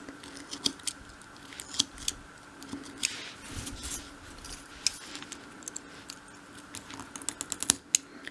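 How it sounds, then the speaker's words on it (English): A craft knife tip cuts section by section through thin wood while building an arched window for a dolls house, making a run of small, sharp, close clicks and snips spread irregularly through the clip with no talk. "I'm just using the very tip of the knife to cut through."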